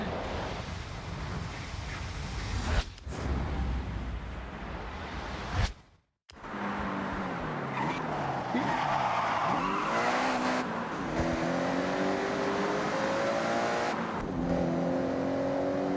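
Car exhaust heard from inside the cabin, a low droning engine note that rises and falls with acceleration, interrupted by a brief cut, then steady revving with climbing tones and no talk over it.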